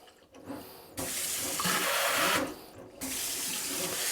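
Water from a BioBidet Flow Motion spring-neck kitchen faucet rushing into a sink, switched on and off a couple of times, with a close steady hiss between short quiet gaps.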